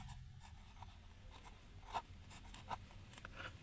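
Pen or pencil scratching on paper while writing out a Class 5 maths answer, soft and close with a few brief stroke accents, no voices.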